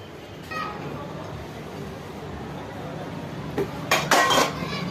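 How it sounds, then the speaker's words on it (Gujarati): Dishes, pots and utensils being washed with soap powder at a home sink, with a steady low background and a short burst of clinking and clattering metalware near the end. "સરખા વાસણ ધોજો અને હાબુ પાવડર કઈ મફત નથી આવતા હો ને."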